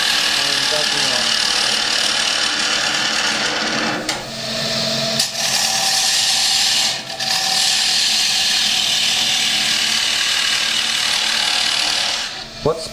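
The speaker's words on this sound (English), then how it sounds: "I'm almost at the bottom of the hole there, so I've got to take more wood off here." A wood lathe turns a bowl at around 1100 RPM, a steady whirring drone with rough scraping as the tool cuts wood, running continuously for the whole stretch beneath someone talking, with brief dips in the cutting.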